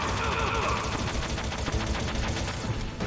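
Rapid machine-gun fire in a Metal Gear game, a fast, continuous rattle of shots over a busy background for about three seconds.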